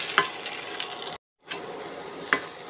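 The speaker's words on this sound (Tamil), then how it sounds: "இந்த எண்ணெயில் சீரகத்தோட ஒரே ஒரு 2 நிமிஷம் மட்டும் மிக்ஸ் பண்ணிட்டால் போதுங்க" Potato samosa filling is stirred with cumin in hot oil, a soft scraping and light sizzle in the pan broken by a brief silent gap, with a few sharper clinks of the spoon.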